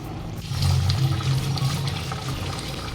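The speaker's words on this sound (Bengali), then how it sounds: "দু মিনিট এইভাবে গ্রেভিটা ফুটতে দেব" Fish curry gravy with fried fish pieces bubbles steadily in a pan, a close, continuous churning simmer that swells after the first half second and holds alone without talk.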